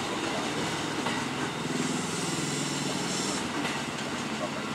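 A train rumbles steadily past a roughly century-old railway crossing on the line toward Jatinegara station, a continuous close, loud roar of wheels and carriages throughout.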